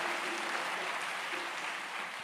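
A church congregation applauds steadily, a dense wash of many hands clapping throughout at a moderate distance, with no break in the sound.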